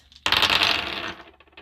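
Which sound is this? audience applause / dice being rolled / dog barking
dice being rolled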